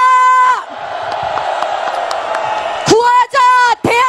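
A large crowd roars and cheers together at a Liberty Korea Party political rally, a sustained loud mass of voices between an amplified speaker's shouted lines.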